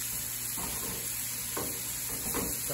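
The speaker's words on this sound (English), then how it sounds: "bit by bit, I'm going to whisk that in" Whisking small cubes into a sauce with a rubber-coated whisk in a nonstick pot, soft scraping stir strokes repeating every second or so over a steady sizzling, humming background, with no talking.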